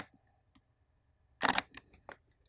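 A Fujifilm X-T3 camera fires its shutter close to the microphone, one sharp mechanical click followed by a few softer clicks in a quiet room.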